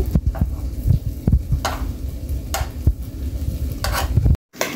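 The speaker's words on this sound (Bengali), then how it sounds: "দেন আমি ডিমগুলো ভেজে নিয়েছি। এখন আমি ঘুরিয়ে দিচ্ছি।" Eggs frying in a pan are flipped over: steady oil sizzle with repeated scraping and tapping of a spatula against the pan, close and fairly loud, ending with a brief dropout.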